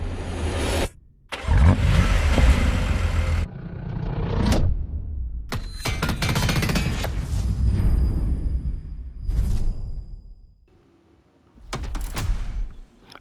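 A BMW car engine driving in the video game The Crew Motorfest, revving and accelerating in loud surges with short silent gaps between passes, a whoosh of speed under some bursts.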